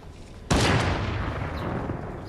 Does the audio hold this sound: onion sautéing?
no